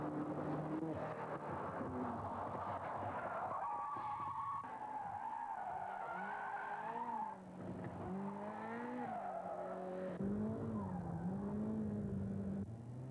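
A Ferrari F40 sports car at speed, its engine note rising and falling through gears as it drives hard, with some tire squeal, steady and fairly loud throughout with no talking.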